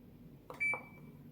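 An AQUA AQW 77DH 7kg single-tub washing machine gives a short, close electronic beep as its power is switched on, in a quiet room.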